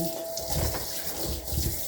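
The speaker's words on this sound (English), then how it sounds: "I'm going to put water in the sink because I haven't washed dishes for one day." Hot tap water pours steadily into a kitchen sink for dishwashing, a continuous close rushing and splashing with no breaks or speech.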